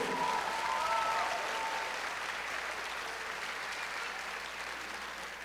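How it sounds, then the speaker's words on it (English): Audience at a high school commencement ceremony applauds a student speaker, a sustained wash of clapping from a large crowd that gradually fades, heard at moderate distance with a brief faint tone near the start. "give our students another round of applause, our student speaker"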